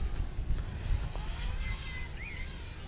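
An FPV drone running a graphene LiPo pack flies at just above quarter throttle, giving a steady, moderate whine over a broad wind-like rush, with faint rising tones from the motors and no voices.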